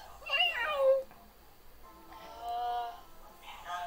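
A human voice imitates a cat meowing as a guessing-game clue for the Cheshire Cat, giving two drawn-out, wavering meows with a quiet pause between, close and moderately loud.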